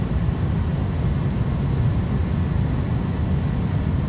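An iniBuilds A310 airliner's engines roar at takeoff power in Microsoft Flight Simulator, a steady broadband rumble heavy in the low end with no other sounds over it.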